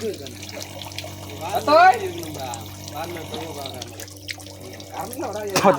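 Water from a motor pump at a village bore well gushes and splashes steadily close by, a running-tap wash heard under a loud ongoing hum, with voices talking over it.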